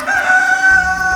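A loud, close rooster crow rings out in one drawn-out call in the Ugandan bush of Karamoja, with faint background noise beneath.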